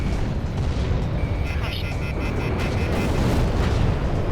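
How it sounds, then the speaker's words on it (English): A missile launches and detonates in the combat flight game Ace Combat 6, a continuous loud rumbling roar with booming blasts, overlaid by a steady electronic warning tone and radio chatter. "Launching missile."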